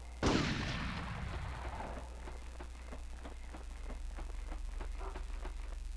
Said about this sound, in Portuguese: Nossa, de onde tá vindo esse tiro?